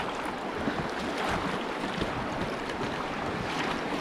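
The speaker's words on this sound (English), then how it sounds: "Getting into a little bit of rapids up here" A solo canoe entering small whitewater rapids on a sunny morning, with a steady rushing churn of water and wind, loud and close, with no voices.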